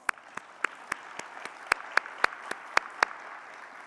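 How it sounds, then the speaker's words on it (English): A faculty meeting audience claps, light scattered applause with about a dozen distinct sharp claps standing out over a soft bed of hand-clapping, fairly quiet and steady for a few seconds. "Please give yourselves a round of applause."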